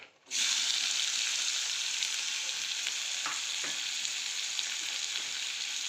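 Loud, steady sizzling and sputtering of onion frying in hot tempering oil, continuous throughout with a few sharp pops, no voices.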